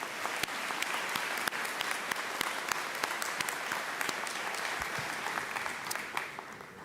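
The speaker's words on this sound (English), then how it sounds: "Let's give all those honorees one last round of applause for their achievements." A graduation audience applauds honorees at a community college ceremony, dense sustained clapping from a large crowd at moderate distance, fading slightly at the end.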